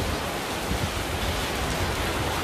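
Steady rain pours down in an arcade shopping street, a dense, even hiss with no pauses that fills the whole stretch, no voices on top.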